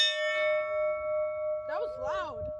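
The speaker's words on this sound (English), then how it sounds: "Oh, can I ring the bell?" A fire truck's bell, rung once outside a food stop, gives a clear metallic ring that slowly fades. People's voices then talk over it.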